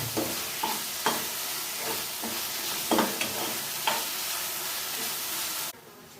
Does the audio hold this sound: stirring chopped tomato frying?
yes